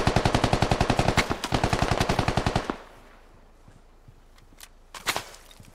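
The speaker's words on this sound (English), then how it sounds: "And they're being shot at from the east." Rapid automatic gunfire in a military shooter game, a loud sustained burst of evenly spaced shots for almost three seconds, then quiet with a few faint distant pops and one sharper crack near the end.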